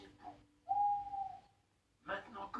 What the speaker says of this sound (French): c'est un vrai hibou